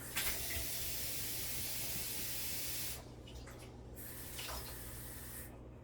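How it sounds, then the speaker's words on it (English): Water runs from a tap into a container in a strong hissing stream for about three seconds, then softens and continues more quietly. "let me fill it up with some water"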